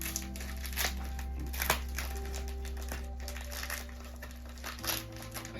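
Taped package wrapped in bubble wrap being unwrapped by hand, with soft crinkling, crushing and occasional sharp tearing and popping sounds, close but faint over a low steady hum.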